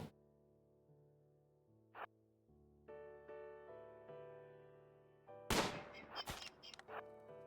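Bolt-action rifle shots ring out in a video game. A few loud, sharp cracks come in close succession late in the clip, after quiet sustained musical tones and a soft earlier pop.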